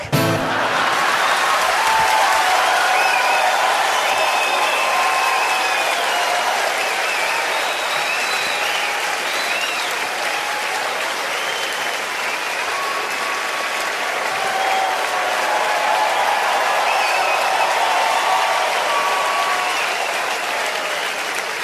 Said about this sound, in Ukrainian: публіка хвилину аплодує